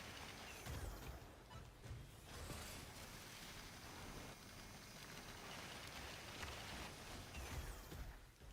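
Light drizzle falls in the video game Synduality: Echo of Ada, a faint, steady wash of soft rain noise that holds evenly throughout with no voices.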